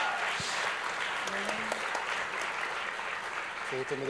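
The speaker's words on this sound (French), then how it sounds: "On applaudit bien fort." Sustained audience applause at a medal presentation for a European women's cybersecurity day, an even wash of clapping with a few voices heard briefly underneath.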